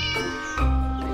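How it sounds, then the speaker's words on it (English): A cat, called a kittycorn, gives two pitiful, drawn-out meows close by, the second lower and louder than the first, with no talking. "The kittycorn meowed pitifully, its eyes wide and imploring."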